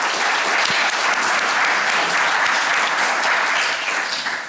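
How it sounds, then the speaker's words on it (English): A crowd applauds at an architecture awards event, full, sustained clapping from many hands filling the room at a steady level before easing slightly at the end. "A round of applause."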